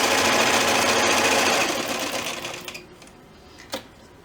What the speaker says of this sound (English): I'm just stitching all the way around